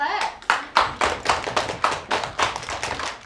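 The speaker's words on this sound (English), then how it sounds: "Give him a big clap." Schoolchildren clap together in a classroom, a steady run of quick, crisp claps that goes on for several seconds at close range.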